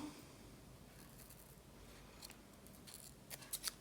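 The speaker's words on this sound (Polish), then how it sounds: "Bierzemy sobie, słuchajcie, nożyczki i ucinamy tak w miarę tutaj blisko." Scissors snip through thin yarn while joining strands with a double knot, a few quick, faint, close-up cuts near the end against a quiet background.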